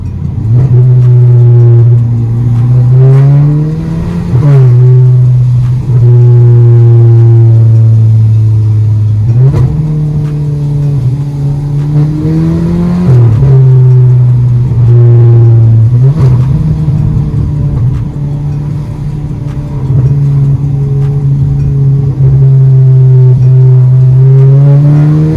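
A stage 2 Audi A3 1.8 TFSI tuned to 260 bhp revs repeatedly while driving in the rain, its engine note climbing and dropping through the gears, loud and close from inside the cabin with windows cracked open.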